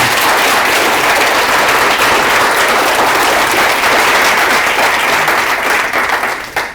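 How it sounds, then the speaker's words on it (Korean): An audience at a public lecture breaks into loud, sustained applause, dense clapping that holds steady for several seconds before tapering off near the end. "박수도 쳐 이놈들아."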